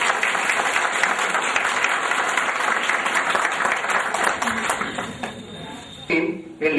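Dense, sustained audience applause at a gathering, loud and steady for most of the stretch before thinning out near the end, with a few voices breaking through at the close.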